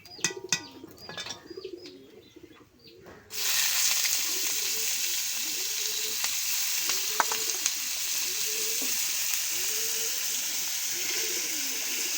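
Cauliflower florets fry in a pan with panch phoron, bay leaf and a little salt, a steady loud sizzle starting abruptly after a quieter opening, with faint bird cooing in the background.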